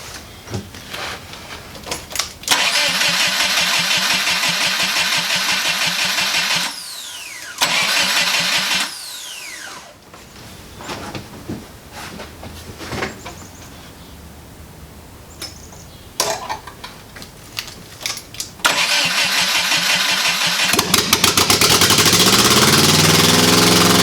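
A Porsche 914 engine cranks and catches, then runs roughly, revving up and down loudly with sputtering bursts.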